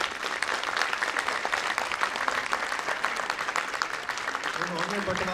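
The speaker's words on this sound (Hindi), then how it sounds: "एक बार जोरदार तालियां यहां पे होनी चाहिए थी।" Audience applause at a Hindi poetry recital, dense steady clapping throughout with a faint voice emerging near the end.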